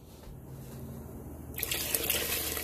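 Soup base liquid pours into a pot for chicken soup, starting suddenly as a bright, steady splashing and rushing that continues loudly to the end after a quiet kitchen hum.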